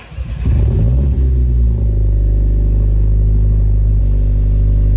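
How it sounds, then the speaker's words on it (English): A Mercedes-AMG A45 S engine starts up and settles into a loud, steady idle rumble, the exhaust droning evenly close by with no talking. "I've attached it to the car, I'm going to turn the car on."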